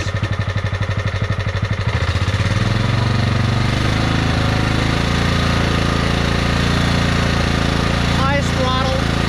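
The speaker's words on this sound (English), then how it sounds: "This is low idle, lowest." A Scotts by John Deere riding mower engine idles at its lowest throttle after carburetor tuning, a loud, close, steady chugging that smooths into an even drone, with a voice briefly heard near the end.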